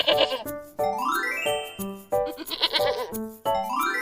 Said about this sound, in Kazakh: бұл жануар ешкі деп аталады.